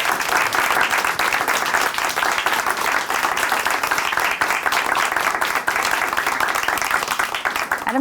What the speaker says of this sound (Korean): 다시 한번 글신 자매님께 큰 박수 보내드릴게요